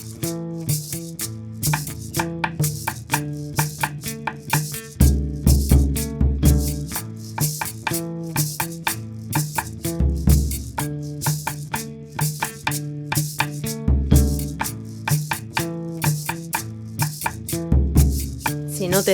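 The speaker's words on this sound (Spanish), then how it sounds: "Otro instrumento que tenemos es la tambora." A tambora drum for cumbia music, heard as deep periodic booming strikes at intervals within a rhythmic music track with percussion.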